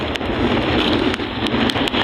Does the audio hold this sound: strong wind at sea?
yes